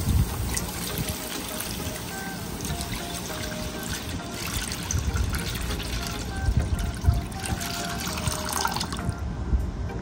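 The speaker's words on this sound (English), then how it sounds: "I'm gonna add some water." Water pours steadily for about nine seconds into a pot of Guyanese-style stew for tilapia, with onion, garlic and seasoning already in it. The trickle is close and continuous, with no talking.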